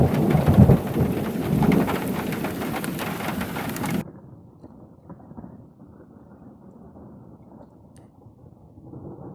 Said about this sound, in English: This storm is close. I just watched a huge bolt of lightning strike over there.